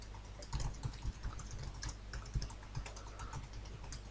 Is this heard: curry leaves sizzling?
no